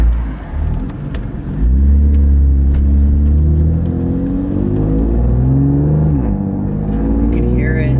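A BMW F80 M3 fitted with VRSF catless downpipes rumbles loudly and close, its exhaust droning through rising and falling rev sweeps, with a voice briefly heard over it.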